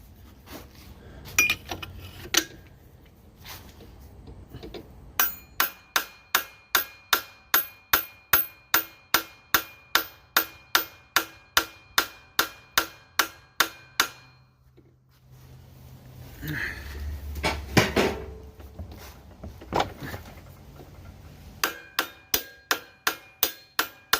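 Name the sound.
knocking an oil seal off a Kohler PTO shaft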